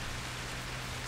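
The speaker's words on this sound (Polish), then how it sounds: "akurat nam się trafił deszczyk, to sobie włączyliśmy teraz" Steady rain pours in the farming simulator game Cattle&Crops, a dense, even hiss of falling drops that holds at one level with no voices over it.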